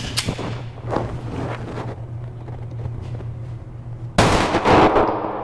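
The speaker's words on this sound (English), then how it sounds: "Sig Sauer P365 California compliant version. 10 rounds, going for target number 1." A Sig Sauer P365 pistol, the California-compliant version, fires at an outdoor range, with a few sharp cracks early on, quieter background in the middle and a loud burst near the end.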